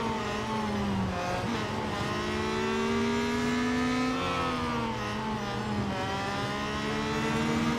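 A Peugeot 9X8 race car in Real Racing 3 roars steadily under acceleration, its engine note climbing and shifting with gear changes, loud and continuous with no voices.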